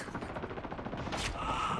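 Rapid, muffled bursts of automatic gunfire in the video game Wardogs rattle in close succession, with a louder crack near the end.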